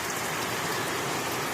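Rain falling steadily, a dense, even hiss of drops on surfaces throughout, with no voices.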